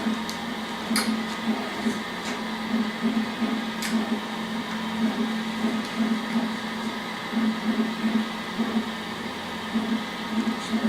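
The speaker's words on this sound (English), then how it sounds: "that's doing its laser engraving thing." A laser engraver working on a wooden sign hums steadily with a faint whine, punctuated by occasional soft ticks, in an indoor office setting.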